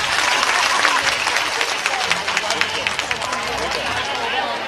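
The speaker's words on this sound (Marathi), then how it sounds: "अरे टाळ्या बिळ्या काहीतरी वाजवा ना." Applause from an audience at an Anganwadi workers' event, dense and continuous clapping from a sizable crowd throughout, with murmured voices underneath.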